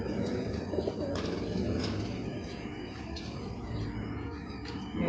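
Pigeons kept as pet birds coo softly and repeatedly against a steady background murmur, with a few faint chirps mixed in.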